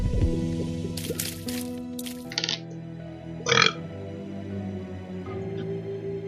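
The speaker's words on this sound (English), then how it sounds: "that was a pro burp" A burp from a character in The Binding of Isaac game, a short wet eructation heard over looping game music with liquid-like squishy effects around it.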